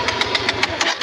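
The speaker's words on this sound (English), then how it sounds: "Carb got flooded after sitting on an angle for a while" An enduro dirt bike engine with a flooded carburetor runs close and loud, a steady throbbing chug with evenly spaced pulses.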